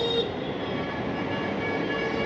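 A metro train standing at a station, a steady heavy rail rumble with faint metallic whine, constant and fairly loud throughout.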